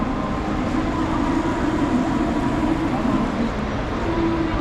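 A metro train at Bangkok's main airport rumbles steadily and loudly throughout, with constant rolling rail noise and a faint rising whine.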